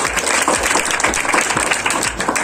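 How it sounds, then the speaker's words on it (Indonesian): An audience applauds at an Indonesian public event, a dense, continuous wash of clapping from a sizeable crowd held at an even, fairly loud level throughout. "Tepuk tangan dulu dong."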